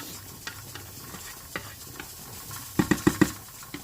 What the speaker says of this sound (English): I'm just going to let the onions sweat.